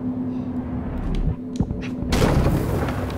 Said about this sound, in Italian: Sono esplosioni.